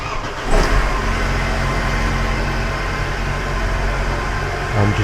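A 2012 Mercedes C-Class W204 engine idles steadily after starting, with a brief start-up surge near the beginning, close and continuous without talk.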